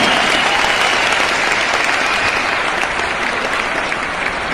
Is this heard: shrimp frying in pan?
no